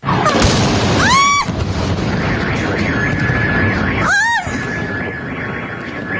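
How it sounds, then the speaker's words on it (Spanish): Deep booms of night-time explosions in Caracas rumble under a loud, continuous wail of sirens, with two sharp bursts standing out around the middle and start. "sorprendidos por el sonido de las explosiones"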